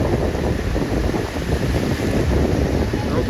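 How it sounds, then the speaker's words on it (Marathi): Sea waves surging in along the Ratnagiri coast, a loud continuous wash of surf mixed with heavy wind buffeting the microphone, no clear voices. "ती लाट बघा कशी आली."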